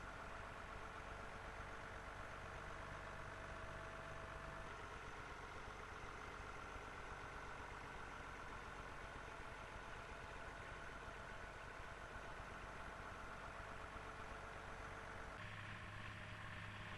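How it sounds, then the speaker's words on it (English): A 1004 tractor engine idles steadily while loading a trailer from a heap of sugar beet, a continuous low rumble that stays unbroken throughout, with a slight shift near the end. "this 1004 tractor, which loads the trailer from this rotting heap of sugar beet"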